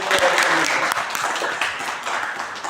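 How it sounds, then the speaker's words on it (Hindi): An audience claps loudly after a Hindi stage play presentation, with thick sustained applause that stays strong and gradually eases slightly toward the end. "मैं चाहता हूं कि जोरदार तालियों से इनका"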